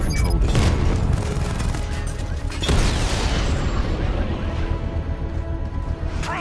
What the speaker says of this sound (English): I can use the power wrench to trigger a controlled explosion.